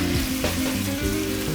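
Wine hits a hot pan during a curry shrimp pasta, giving a dense, continuous sizzle and bubbling hiss that fills the whole stretch, close and loud with no voices.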